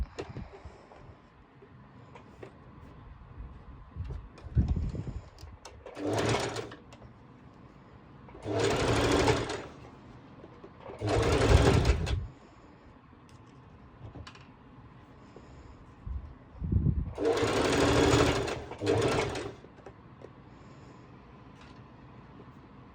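Sewing machine running a straight basting stitch through swimsuit fabric, in several separate bursts of rapid mechanical whirring with quiet pauses between them, close and clear.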